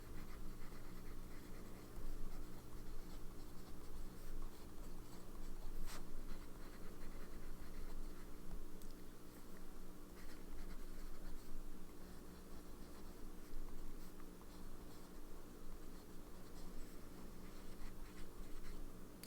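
A fountain pen writes on coated paper with pastel pink ink that runs dry on side strokes, making a faint, continuous scratchy scrawl of small strokes and pauses, close up and quiet, with no talking.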